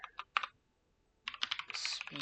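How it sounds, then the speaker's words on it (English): Rapid clicking of computer keys in two short bursts, a pause of near silence, then a longer, denser run of typing, close and fairly quiet. "What the fuck am I typing?"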